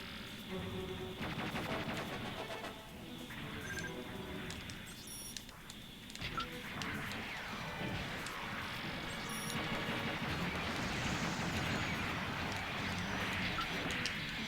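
Beam rifle shots crackle and zap in Gundam: AEUG vs Titans amid continuous dense battle effects, loud and busy throughout with layered explosions and electronic game sounds.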